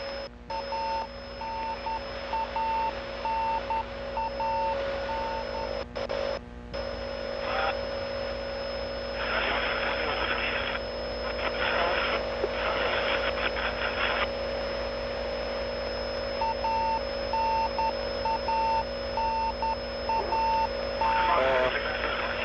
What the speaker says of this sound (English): That's the familiar radio beacon